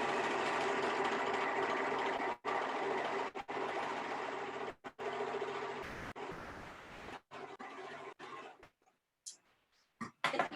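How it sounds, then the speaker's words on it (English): A domestic sewing machine stitches fabric for a sustainable festive project, running in steady mechanical bursts with short pauses between seams, close and fairly loud with no talking. "show you quickly how it will be possible to sew this"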